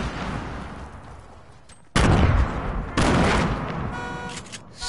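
Video game gunfire and grenade explosions: a steady rattle of shots, then two sudden loud blasts about a second apart, each followed by sustained crackling fire and rumble.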